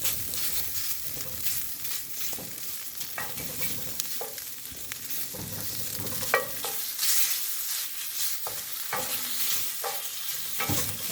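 Bacon frying and being stirred in a warmed skillet, a steady close sizzle with scattered crackles and pops and occasional scraping of the pan, no voices.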